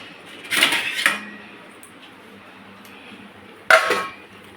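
Metal pot of freshly cooked fish curry clanks as a lid is set on, two close clattering knocks close together, a pause with quiet room tone, then another sharp clink.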